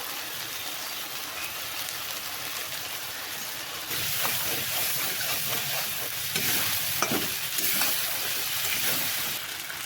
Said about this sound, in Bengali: এর মধ্যে এখন নুন হলুদ দিয়ে ভালো করে কষিয়ে নেব